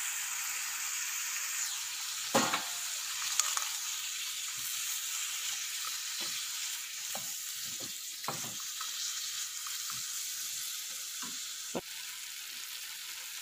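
Cashews, cloves, cardamom, ginger, garlic and chilli fry in a pan with a steady bright sizzle. A few knocks and clinks from stirring come through, and no one speaks.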